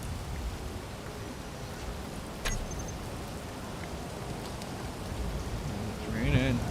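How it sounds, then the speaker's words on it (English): Steady rain in the video game Space Engineers, a continuous hiss of rainfall on surfaces throughout, with a brief faint click partway and a short tonal game sound near the end. "It's raining."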